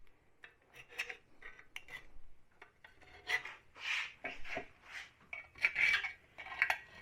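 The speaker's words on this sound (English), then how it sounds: "I'm just going to run around it with the scribe" A scribe scratches around a steel rear skid plate for a Dana 44 axle, held clamped in place, making a string of close, short rasping strokes that grow louder and denser toward the end.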